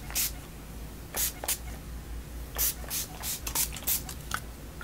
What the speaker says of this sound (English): 20 to 30 spritzes of this stuff. Just water, aloe, and essential oil.